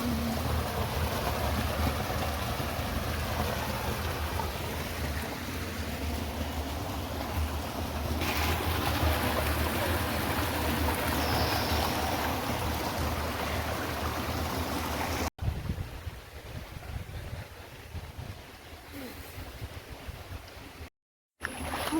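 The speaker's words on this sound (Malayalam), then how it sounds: "ഇതൊരു കുഞ്ഞു വെള്ളച്ചാട്ടം കണ്ടോ" A small waterfall at Malampuzha in Palakkad pours in a steady broadband rush of water. It stays loud and continuous for about fifteen seconds, then drops to a softer flow with a brief gap near the end.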